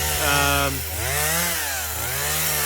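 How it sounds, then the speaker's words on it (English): Chainsaw limbing Christmas trees in a plantation during thinning work, a steady engine drone with rising and falling revs as branches are cut, fairly close and continuous with no voices. "You can hear Pat behind me limbing away"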